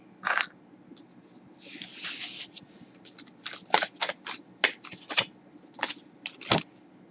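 Tarot cards are handled close by: a short rustle, a soft sliding shuffle, then a quick run of crisp snaps and flicks as a card is pulled from the deck, with no talking.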